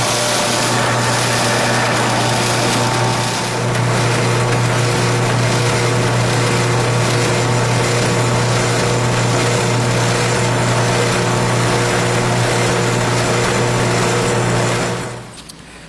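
A power drill bores 9/64 holes through a brake shoe ground to match its pad, marked for copper nails. The motor whines steadily and loudly at close range for about fifteen seconds, then stops abruptly.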